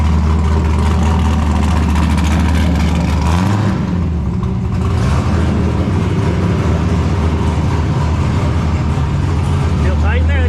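A built car engine idles steadily and loudly up close, with a low rumbling drone throughout and a slight shift in tone partway through.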